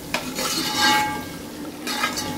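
Carrots and capsicum sautéing in a pan for moong dal makhani, with steady frying hiss and stirring scrapes, brief bright clinks of utensil against pan at the start and again near the end.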